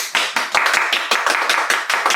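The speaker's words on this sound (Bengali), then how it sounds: "সবাই একটু হাততালি হবে" A small group gathered to celebrate a first freelancing withdrawal claps hands in rapid bursts of applause, loud and close, lasting only a couple of seconds.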